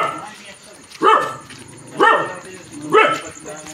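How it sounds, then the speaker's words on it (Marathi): Several dogs bark at night in a village near a riverside field, three loud barking bursts about a second apart, close by, over a low background hum and faint insect noise. "बघू शकता कुत्र्यांचा आवाज आहे"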